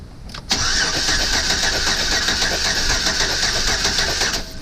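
A Chevrolet Silverado with a misfire cranks briefly, then its engine catches and runs at a steady, loud idle close by for several seconds, with no talking.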